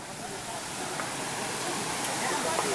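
Small waterfall on the Maitá stream in rural Brazil, a steady broadband rush of falling water that fills the whole clip at an even, moderate level with no break.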